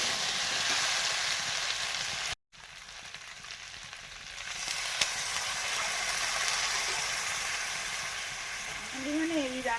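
Potatoes with poppy seeds sizzling and frying in hot oil, a steady bright hiss running throughout with a short cut near the start and faint stirring, close and fairly loud.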